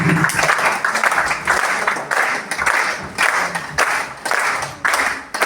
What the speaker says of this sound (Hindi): ताली बजती रहनी चाहिए प्लीज।